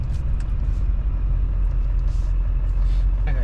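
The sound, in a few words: Duramax diesel engine in Silverado truck, cold start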